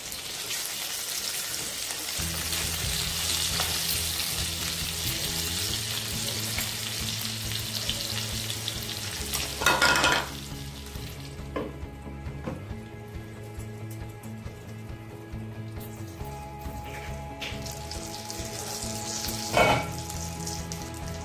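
Stuffed chillies tied with thread frying in oil in a pan, a continuous even sizzle, close and steady, broken twice by brief clattering bursts as the chillies are turned over.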